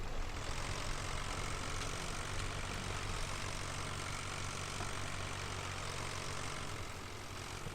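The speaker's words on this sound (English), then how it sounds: "I've just driven over our nice clean silage with our dirty tractor" Tractor engine in a farming simulator game, driving across silage on a farm, a steady low droning rumble that runs continuously at even loudness with no talk.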